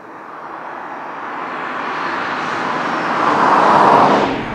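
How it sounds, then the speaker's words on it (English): A Cadillac CTS-V Wagon with a supercharged 6.2-liter engine of almost 560 horsepower gives a broad roar that swells steadily, peaks loudly near the end and then drops slightly, with no talking. "2-liter supercharged engine."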